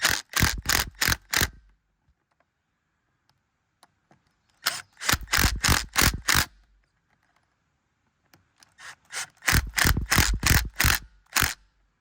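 A small mini impact gun fitted with a 3/8 Allen socket drives wheel bolts into a Black Rhino wheel, heard as three separate bursts of rapid, close mechanical hammering with short quiet gaps between them.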